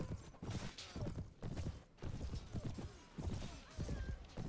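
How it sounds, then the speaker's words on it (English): Horse hooves clip-clop in a Mount & Blade battle, a faint, rhythmic trot in the background among other game noise, with no talk over it. "There's a horse."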